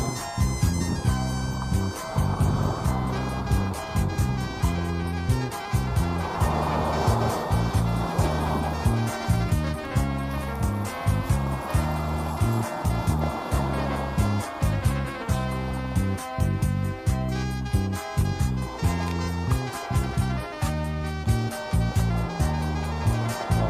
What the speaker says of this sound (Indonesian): Kita dengerin suara ombak saja.